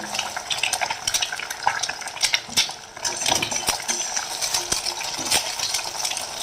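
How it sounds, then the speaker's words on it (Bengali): Cracked eggs fry and get scrambled in a pan for an okra-and-egg dish, with steady stirring scrapes and light metallic clinks over a low sizzle; no one speaks. "ডিমটাকে ফাটিয়ে নিয়ে ভেজে নিতে হবে"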